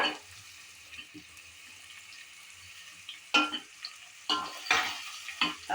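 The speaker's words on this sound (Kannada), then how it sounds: "ಕ್ಯಾರೆಟ್ ಹಾಕ್ತಾ ಇದ್ದೀವಿ ನೋಡ್ರಿ ಟಮಾಟೊ ಹಾಕತ್ತಾ ಇದ್ದೀವಿ" Carrot and tomato go into a frying pan for avalakki, the pieces stirred with a steady low sizzle and a few sharper scraping bursts toward the end, close and fairly quiet.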